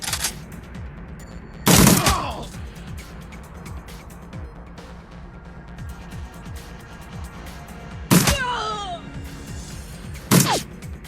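Shadowrun Returns video game gunfire: three loud, sharp shot bursts spaced apart over a low ambient game hum, each with a short ringing tail.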